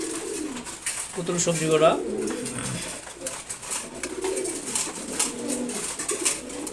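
Pigeons kept at home coo softly while being fed in the morning, low repeated burbling calls near the listener, with someone talking intermittently over them.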